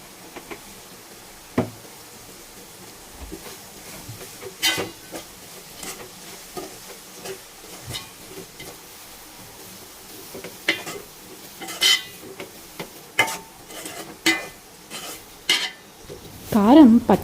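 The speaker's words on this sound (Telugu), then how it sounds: "మగ్గిపోయిన ముక్కల్లో కొద్దిగా కారం కూడా వేసుకొని మరొక 2 నిమిషాలు వేయించుకుందాం." Broad bean pieces frying with chili powder in a pan: a quiet background sizzle under intermittent spoon knocks and scrapes against the pan, which become busier and louder toward the end.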